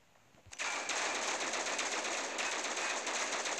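A long, unbroken burst of automatic gunfire from a gun in the mobile shooter game Critical Ops starts abruptly and rattles loudly to the end, with no talk over it.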